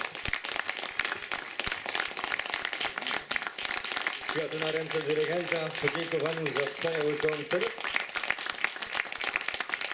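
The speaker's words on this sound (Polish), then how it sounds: "Wielkie brawa." Audience applause follows a youth brass band's performance at a brass band festival, a steady patter of clapping running throughout while someone speaks over it in the middle.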